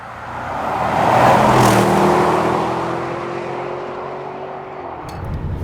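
A 2021 Bentley Bentayga V8 SUV accelerates hard, and its engine note swells into a loud rising roar with a whirring tone. The sound holds for a while and then eases back. No speech is heard.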